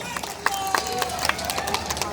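An audience claps for Dhaka North City Corporation mayor Atiqul Islam at an outdoor Bangladesh golden jubilee ceremony by Hatirjheel lake. The dense, steady applause carries sharper claps and crowd murmur through it.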